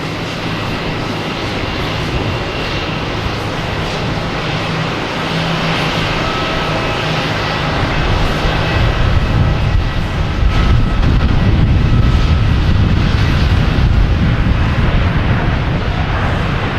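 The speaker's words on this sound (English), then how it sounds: "we have Delta coming in from San Juan, an A321 Neo. Landing on 4 left." Delta Airbus A321neo inbound from San Juan landing on runway 4 Left at Boston Logan, a steady broad jet roar that swells louder and deeper in the second half as the aircraft passes close, with no talking.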